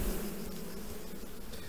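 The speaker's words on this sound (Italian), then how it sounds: "un sacco d'api, vedete che c'è pieno d'api." Honeybees swarm around an open hive frame during queen rearing, a dense continuous buzzing hum filling the air at close range with no pauses and no talking.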